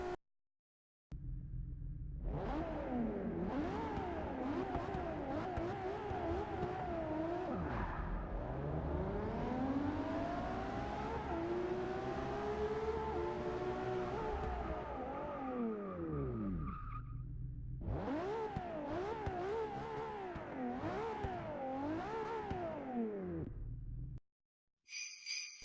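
Race car engine in the Forza 6 video game on the short Hockenheim circuit, loud revving that climbs and drops through gear changes with tire squeal on corners, a brief silence midway before more hard acceleration, no talking.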